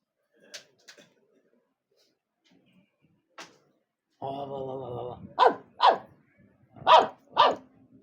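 A dog barks several times in short sharp bursts, with a longer harmonic growl-like sound just before, otherwise quiet background.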